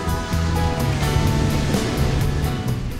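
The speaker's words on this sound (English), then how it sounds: "You can literally hear the waves at some of Phil's tables." Ocean waves beside a seaside fish market, a continuous surf wash heard with a low steady hum underneath and no talking.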